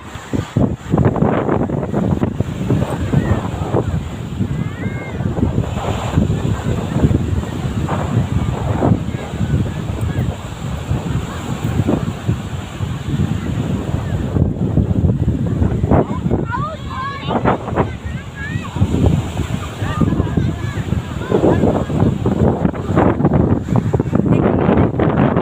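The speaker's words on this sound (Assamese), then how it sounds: "কেনেকৈ ঢৌ আহিছে চাওকচোন" Sea waves roll in steadily on the shore at Arnala beach in Maharashtra, a continuous broad roar with gusting wind buffeting the microphone and faint voices now and then.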